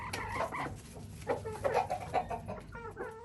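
Chickens cluck in short, irregular bursts on a UK farm, fairly close, with a low steady hum running underneath.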